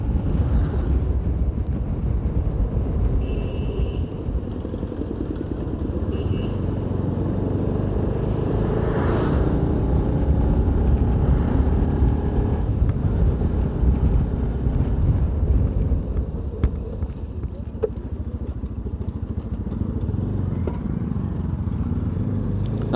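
A motorbike ride on a road with speed bumps: steady, loud wind buffeting roars over a low engine and road rumble throughout, with no one talking.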